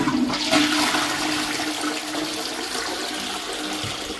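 A blocked household toilet, one of two feeding a shared 80mm waste pipe, flushes with a loud steady rush of water that fills the short stretch from start to finish, close by and with no talking.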